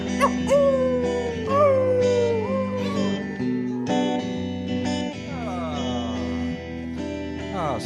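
Howling sounds rise and bend in long wavering glides over a sustained droning musical backing, loud and continuous throughout a live radio performance, with sliding upward whoops near the end.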